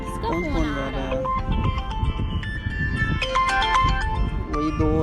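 A melodic phone ringtone plays repeatedly, bright electronic tones looping over steady background chatter and voices.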